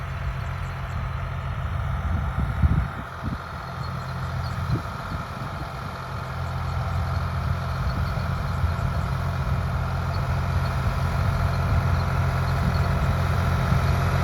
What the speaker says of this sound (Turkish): İsterseniz şimdi traktörümüzün nasıl çapa yaptığını hep beraber izleyelim.